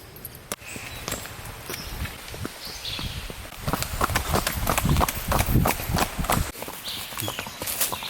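Hooves clip-clop in an irregular, steady rhythm close by, a horse walking over hard ground with some rustling and faint outdoor noise.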